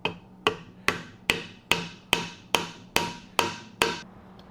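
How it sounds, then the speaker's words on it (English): Ten sharp metallic taps from a lead hammer on a 1975 Triumph TR6 transmission bearing during assembly, evenly spaced about half a second apart, each ringing briefly, close and clear with no talking. "Now let's tap this. Try with my lead hammer."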